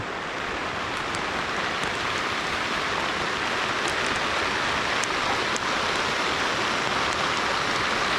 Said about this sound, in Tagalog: Palakas pa man din ang ulan.